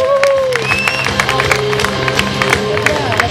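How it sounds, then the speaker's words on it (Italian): Crowd applauding and cheering the winner as he crosses the finish line of the 2019 Cardacrucca race, clapping and shouts mixed with whistles and a loudspeaker voice. "gli applausi sono tutti per lui, Michele Belluschi"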